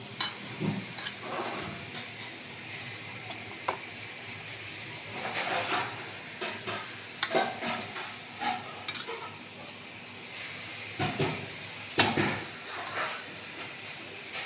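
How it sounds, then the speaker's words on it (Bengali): Pieces of hilsa fish are stirred into a mustard and poppy seed masala, giving soft scraping and squelching stirring sounds with intermittent louder knocks over a faint hiss. "মাছগুলোকে সব এইভাবে দিয়ে দিচ্ছি মশলার সাথে মিশিয়ে।"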